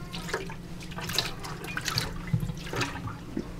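Hot water poured from a large pot over a kitchen sink while koshering it for Pesach, splashing and trickling in uneven bursts with scattered drips, moderately close and fairly soft.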